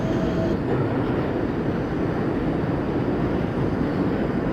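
NYC subway train in the OpenBVE simulator rolling along toward 2nd Avenue, a steady rumbling clatter of rails and car noise throughout, without talk.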